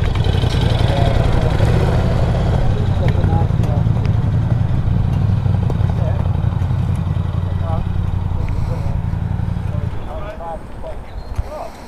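2018 Ducati SuperSport S motorcycle engine running with a steady low thrum close by, a rider talking over it, before the engine note drops away near the end.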